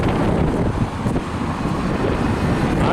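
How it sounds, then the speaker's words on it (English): Strong wind off the Irish Sea at Blackpool buffets the microphone in a loud, steady roar that fills the whole moment without pause. "It is a bit windy today. With that breeze coming off the Irish Sea."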